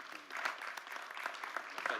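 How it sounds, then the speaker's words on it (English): Brief, moderate applause from the audience at a Little Rock city board of directors meeting, steady overlapping clapping heard at a slight distance in a quiet hall. "Let's give them a round of applause."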